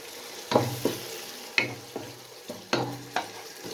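Peas and cabbage frying in a pan for a mixed vegetable sabzi, with a spoon stirring in separate scraping strokes every half second or so over a low sizzle, close and loud, with no talk.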